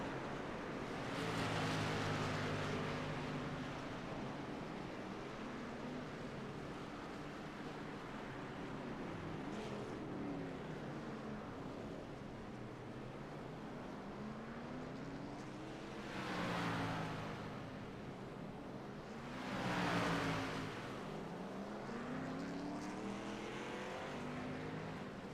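Race cars drone around Talladega in a racing video game, a continuous engine roar with pitch sweeping up and down as cars pass, and two louder whooshing surges near the end.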